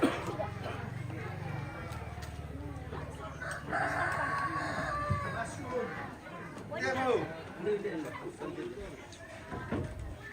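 A rooster crows outdoors at a Torajan Rambu Solo' funeral gathering, its call rising over steady crowd chatter and nearby voices.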